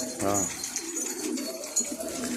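Pigeons cooing close by, a soft rolling coo with a few low throaty calls over a faint outdoor background.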